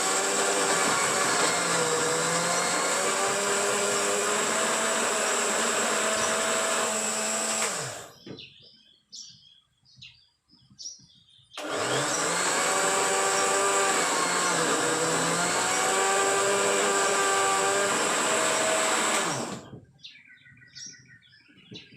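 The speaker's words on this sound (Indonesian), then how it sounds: "Kalau seandainya nggak di blender, Bisa, cuman kalau tidak di blender kurang halus" Blender grinding ingredients into a liquid fertilizer soil conditioner, a loud steady whirring motor in two long runs of about eight seconds each, separated by short quiet pauses.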